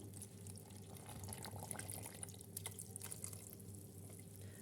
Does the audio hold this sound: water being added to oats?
yes